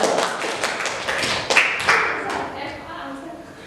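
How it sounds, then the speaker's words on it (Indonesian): Classroom students clapping for a group called up to present, a brief burst of scattered handclaps that fades out quickly, with voices under it. "tepuk tangan dulu untuk kelompok"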